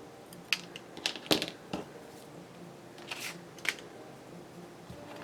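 Scissors snipping paper for a fern-themed junk journal page, a few crisp cuts and rustles spaced out over a quiet room, close and fairly soft.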